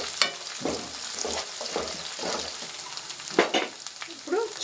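Washed curry leaves crackle and sizzle in hot oil for a chicken fry, with a spoon stirring through them; busy, close frying with bursts of popping and scraping, no voices.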